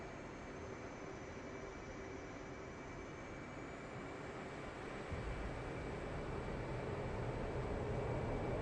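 A steady, loud jet engine roar from an F/A-18 Hornet rolling down the runway for takeoff in DCS, holding a constant drone with a high whine that rises slightly as the throttle builds.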